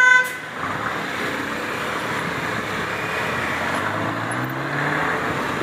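A Transgirón city bus in Bucaramanga idles with a steady low engine rumble, close up on the street. Traffic noise runs constantly in the background, with no speech.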